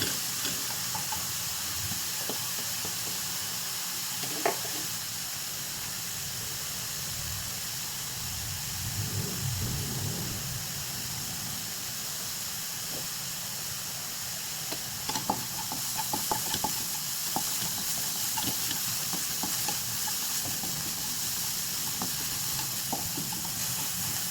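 Onions and garlic sauté in a pan for crispy pork kare-kare, giving a steady hiss and sizzle throughout. Occasional faint clicks of stirring come through, and no voice is heard.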